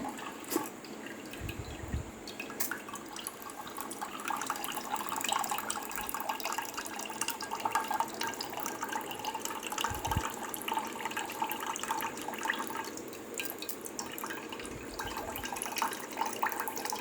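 Water runs and splashes continuously, draining from rice through a colander, with a few low thumps along the way.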